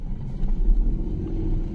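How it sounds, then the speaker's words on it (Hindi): Steady low engine rumble from cars idling and creeping in heavy traffic at a highway toll plaza, a continuous near drone with no voices. "और काफी तगड़ा ट्रैफिक जाम है इसमें।"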